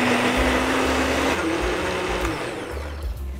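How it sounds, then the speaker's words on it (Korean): A kitchen blender grinds soaked jujubes for gochujang, roaring loudly and continuously with a whining motor, then easing slightly in pitch and strength toward the end. "믹서에 걸겠습니다"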